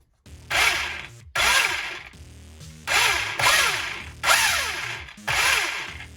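The electric motor and gears of a Traxxas Supra RC car with an upgraded power system whir up in five separate bursts, each about a second long, with a high geared whine and brief pauses between them. No one talks.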